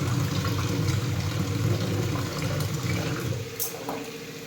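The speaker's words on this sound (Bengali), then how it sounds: "এ দেখো জল ভরলাম" Water pours steadily into a basin filled for cooking, a continuous, fairly loud rushing stream that softens slightly toward the end, with no talking.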